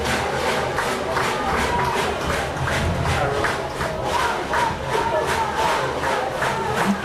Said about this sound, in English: this crowd, for as thin as it is and with the regulations due to COVID-19, is pretty electric for a second-round playoff football game